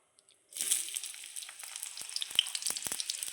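Onions dropped into hot mustard oil for chicken biryani, a sudden sizzle bursting in and continuing as a steady crackling fry with scattered pops, no talking.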